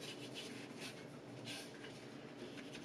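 A salt grinder twisting to grind coarse finishing salt, a faint, steady gritty rasping that continues without a break.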